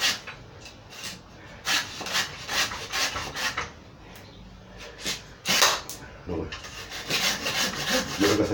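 Dead wood is cut away from an old fig tree cutting, producing irregular scraping, rasping strokes of a blade on wood, close and bursty, with someone speaking intermittently.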